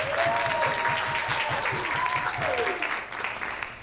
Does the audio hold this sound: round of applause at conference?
yes